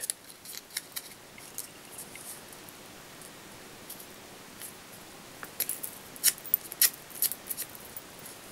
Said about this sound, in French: découper un rond dans du papier, peu importe lequel